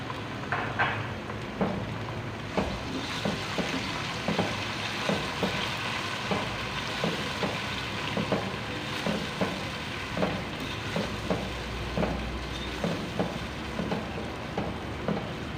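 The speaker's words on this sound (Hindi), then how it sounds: "आधे मिनट के लिए भून लेंगे।" Ginger garlic paste frying in a pan for a potato and cauliflower dish, a soft continuous sizzle with regular light taps and stirring scrapes, quiet and without voices.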